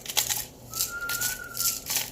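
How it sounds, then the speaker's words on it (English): A person whistles faintly in the background of a kitchen while sausage and potato soup is made, one thin sustained whistled tone drawn out for about a second amid soft clinks and rustles. "doing that very creepy whistling in the background"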